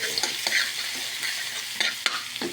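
Garlic sautés in a pan for Filipino spaghetti sauce, with a continuous close sizzle broken by brief stirring scrapes and taps.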